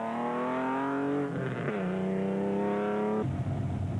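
A rally vehicle in the 2004 Mondi Gilboa 250 prologue accelerates hard off the start line, its engine climbing steadily through the gears with a sharp shift change, loud and close throughout.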